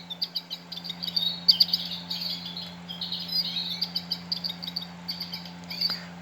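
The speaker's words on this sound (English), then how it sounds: "Old design American goldfinch." A Wild Republic Audubon plush American goldfinch, old design, plays its recorded call: a run of bright, twittering chirps repeated for several seconds over a faint electronic hum.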